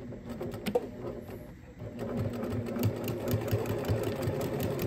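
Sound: sewing machine stitching necktie apron edge

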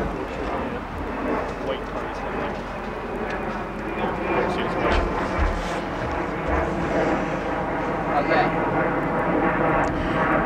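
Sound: airplane flying overhead

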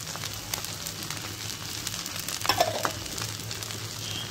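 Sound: spices, onion and green chilli frying for khichuri

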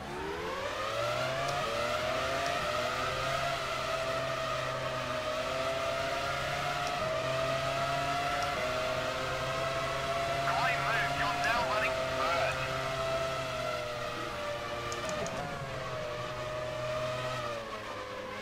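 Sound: F1 cars racing off the start in video game F1 Challenge 99-02

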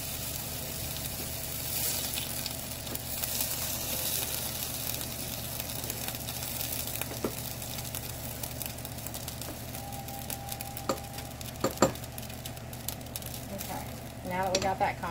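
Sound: macaroni pot boiling over, sizzling on the stove

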